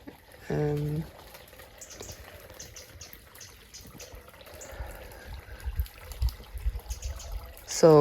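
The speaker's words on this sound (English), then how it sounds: "throughout the wall there's water coming out" Water trickles and dribbles steadily out of inlets in the wall of an old water tank, a soft continuous flow with faint splashes, briefly interrupted by a voice at start and end.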